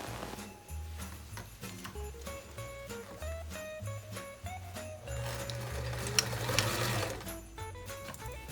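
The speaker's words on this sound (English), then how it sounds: "Now I'm sewing up the last side of the skirt" A sewing machine stitches the last side seam of a vintage appliqué skirt, the side with the pocket, giving a steady whirring run of stitching through the whole stretch with soft background music.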